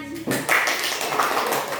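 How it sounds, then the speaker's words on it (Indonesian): A small class claps for a student after her micro-teaching turn, a burst of hand claps starting just after a voice and continuing steadily, fairly close and moderately loud. "Terima kasih pada Mikaela, beri tepuk tangan"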